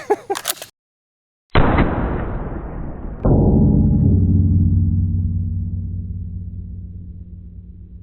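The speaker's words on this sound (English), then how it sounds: "That felt like a full power 12 gauge slug." A single loud 12 gauge shotgun blast fires a homemade ceramic slug outdoors, a sharp report that booms and then rolls into a long, fading rumble after brief handling noise and a moment of silence.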